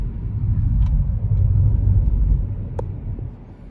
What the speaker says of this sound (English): And that's bus 53